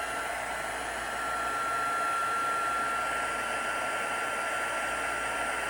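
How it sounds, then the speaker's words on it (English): Embossing heat gun blowing over embossing powder in rubber stamping, a steady close whooshing hiss with a constant high motor whine and no breaks. "Now we're ready to use the heat tool."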